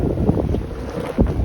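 Wind rushes and water washes around a sailboat running wing on wing at about 11.5 knots near the west end of Catalina, steady and close with a couple of louder gusts.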